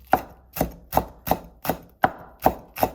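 A knife chops green onion into slices on a cutting board for Korean pachae, eight crisp, evenly spaced cuts in a steady rhythm, close and clear, with no talking.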